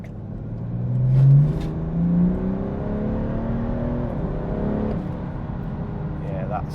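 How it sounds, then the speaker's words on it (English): Tuned BMW 430d with the N57N diesel and turbo upgrade accelerating hard in third gear with wheelspin, engine note rising and surging under load, loud and close from inside, with talk over it. "Yeah, that's it was still wheel spinning in third gear."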